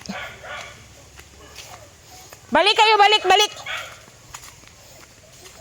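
A dog yelps and barks in a short excited burst while a person calls out loudly nearby, with footsteps and outdoor background noise.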